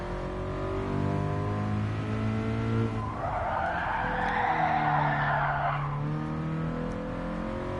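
Tyres squealing as a race car's rear slides out in GT Sport on PSVR, a loud sustained skid rising over a steady revving engine drone and then fading back to engine noise.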